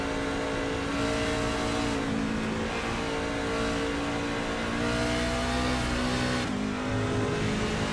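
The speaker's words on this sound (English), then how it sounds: "Here the shifting that goes on." A race truck in a racing video game laps the Watkins Glen road course: a loud, sustained engine roar that revs and climbs, with clear dips at gear shifts, up close and alone without talk.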